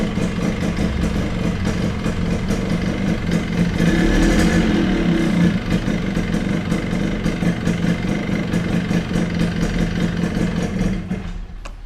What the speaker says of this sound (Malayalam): വണ്ടിയുടെ പിസ്റ്റണും ക്രാങ്കും അടിക്കുന്ന സൗണ്ടാണ് നിങ്ങളിപ്പോൾ കേട്ടുകൊണ്ടിരുന്നത്